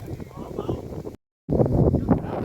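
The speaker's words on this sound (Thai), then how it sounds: "ลมแรงลมแรง" Strong wind buffets the microphone outdoors beside a fishing pond: a loud, steady, low rumbling roar, cut by a brief total dropout before it resumes.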